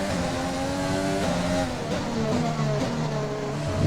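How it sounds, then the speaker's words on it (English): A Red Bull Formula 1 car's engine in the F1 2020 racing game at the Montreal Grand Prix gives a continuous high, buzzing growl whose pitch rises and falls with revs, loud and steady throughout. "I hear the growling of that Red Bull engine behind me."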